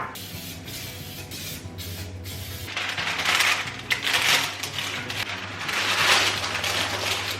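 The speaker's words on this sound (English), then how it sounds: "now I'm gonna spray and line these pans" An aerosol cooking spray hisses onto baking pans in two sustained bursts, close and fairly loud, over a low background hum.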